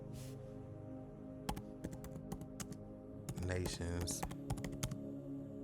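Typing on a computer keyboard, with quick irregular bursts of clacking keystrokes and a dense flurry midway, close and clear, while someone speaks briefly over it.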